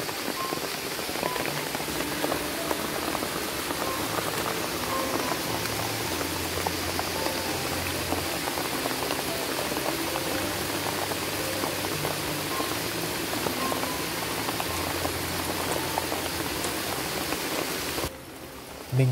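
Heavy rain pours down steadily in a rainforest wilderness, a dense and continuous loud hiss of drops drumming on surfaces, with a low rumble underneath and no voices, cutting off abruptly near the end.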